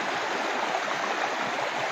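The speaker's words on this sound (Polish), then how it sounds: "Znowu z lewej pływa zimna woda, czyli taka zimna rzeka" A cold river near a geyser in Peru rushes steadily nearby, a continuous broadband roar of flowing water with no talk.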